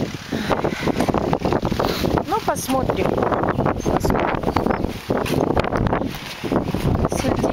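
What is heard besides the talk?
wind blowing outdoors in a garden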